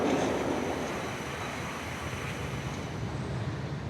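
Electric tram rolling through a city, a steady broadband rumble of wheels on track with a faint high whine, continuous and fairly close throughout, no voices.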